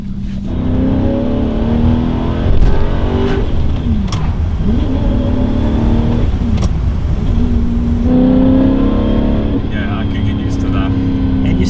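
Alfa Romeo 8C restomod with a manual conversion, its engine loud and close as it accelerates through several rising gears with shift breaks, the tone climbing and dropping repeatedly while people talk over it inside the car.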